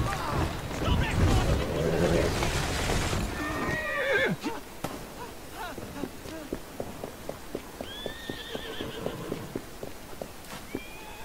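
Horse in Assassin's Creed Syndicate's City of London gives a loud whinny, then hooves clip-clop in a steady rhythm while further neighs sound, with a voice talking early on.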